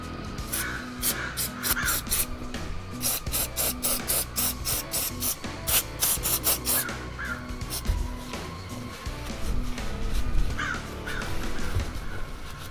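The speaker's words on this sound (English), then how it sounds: "Now I'm gonna just scrape off a little bit of the excess corrosion" Corrosion being scraped off the battery terminals of a Jeep Wrangler JKU, a rapid run of gritty rasping strokes, close and fairly steady, with brief pauses between bursts and no talking.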